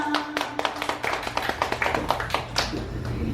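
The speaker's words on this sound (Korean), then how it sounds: "여러분 큰 박수로 응원 부탁드립니다" A singing contest audience claps with steady, dense, fairly close handclaps throughout, with no one talking.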